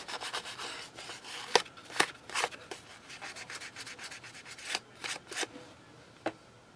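Cut earring pieces are rubbed to smooth their edges, producing quiet, irregular scratchy rubbing strokes with sharper bursts scattered throughout, close and soft.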